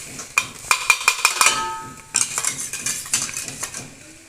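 A spoon scrapes and clinks against a cooking pot while chicken masala is stirred, giving a quick series of sharp metallic knocks, a brief pause, then more scraping strokes, close and fairly loud.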